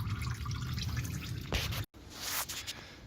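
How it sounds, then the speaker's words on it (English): Motor oil drips and trickles from the drain of a Toyota Camry SE 3.5L V6 into a catch pan, a faint, close, irregular patter with a couple of brief splashier bursts. "let all the oil drip into this pan"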